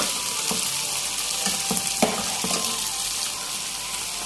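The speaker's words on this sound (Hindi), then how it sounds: "अब इसको मैं इसी ऑयल में अच्छे से फ्राई करूँगी" Boiled cluster beans frying in oil in a pan, a steady close sizzle with a few soft stirring knocks throughout, no voices.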